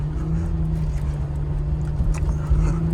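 A 2017 Porsche Macan S with a PDK gearbox drives through sand, its engine giving a loud, steady low drone with a slight rise near the end and no talking.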